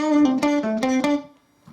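A short electric guitar lick from a blues tune: a quick run of about six plucked notes moving back and forth between two pitches, eerie in character, close and clear, then a faint final note.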